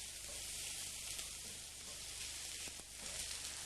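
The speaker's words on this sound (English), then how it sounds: "we're going to add 1 medium onion, that's also been finely chopped. Stir that into the hot oil." Finely chopped onion sizzles in hot oil alongside sausage, a soft but continuous frying hiss with faint stirring beneath it and no speech.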